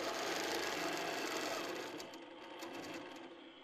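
A sewing machine doing free-motion quilting with ruler work on a fabric panel, a steady dense mechanical whirr of rapid stitching close by, easing slightly in loudness partway through with no talk.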